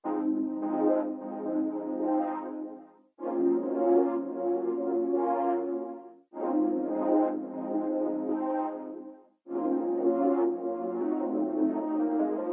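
Warm synth chords play in four repeated bar-long chunks, each cut off abruptly then returning, with a pulsing, pumping volume pattern within each bar.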